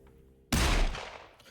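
A single sharp gunshot in a visual novel game set in a prison, a sudden loud blast that rings out and decays over about a second, with nothing else around it.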